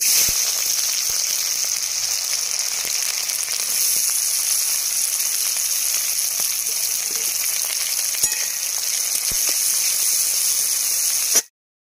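Onion, green chili, cumin seeds and dry red chili frying in hot mustard oil give a steady, loud sizzling hiss that runs unbroken for about eleven seconds, then cuts off abruptly.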